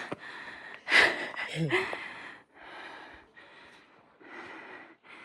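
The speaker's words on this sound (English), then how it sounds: "Don't mind my heavy breathing." Heavy, rough breathing close to the mic outdoors in Death Valley, a few loud huffing breaths at first, then slower steady exhales and inhales.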